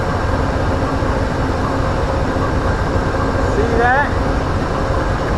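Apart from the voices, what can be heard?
southbound Amtrak train passing with locomotives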